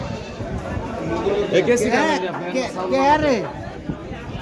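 Goats at a village livestock market in Bangladesh bleat in wavering cries through the middle of the clip, over a steady murmur of crowd chatter and nearby voices.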